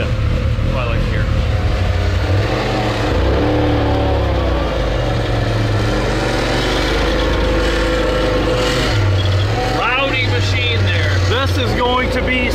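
A 500-horsepower Can-Am Maverick X3 side-by-side with a bigger turbo revs and accelerates, a steady loud engine drone rising and falling in pitch, with voices talking over it.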